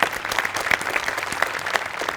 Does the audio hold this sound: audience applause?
yes